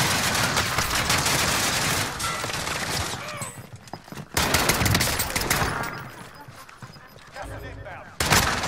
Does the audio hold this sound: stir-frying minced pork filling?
no